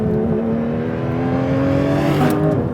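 A Porsche 911 GT3 RS road-legal racing car is pushed hard into a corner, its engine howling loud and steady with rising harmonic tones and no talk over it.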